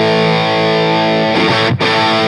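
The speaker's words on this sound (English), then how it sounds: "So you're going to get some level of distortion all the time. This pedal has a lot of distortion in it." Electric guitar played through a Providence Stampede DT distortion pedal with the gain turned off, still audibly distorted: a loud sustained chord rings out, is briefly choked, then struck again and sustained.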